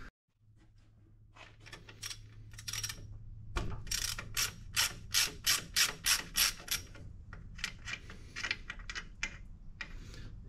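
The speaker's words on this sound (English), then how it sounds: "It's just a 1/4-inch ratchet, goes down inside there," A quarter-inch ratchet turns the coolant fill plug on an EcoBoost engine swap, giving a steady run of sharp, evenly spaced clicks close by. Softer irregular ticks and mechanical rattles come before and after, with no speech.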